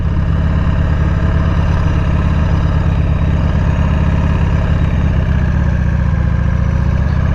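A 1998 Harley-Davidson Sportster 883 motorcycle engine runs close up with a loud, steady, rumbling idle and a fast throbbing pulse. Nothing else is heard over it for the whole stretch.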